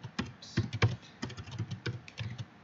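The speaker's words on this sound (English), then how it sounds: "Typing badly here." Typing on a computer keyboard while writing jQuery code: a quick, uneven run of crisp key clicks and clacks, close and fairly clear, with no talking over it.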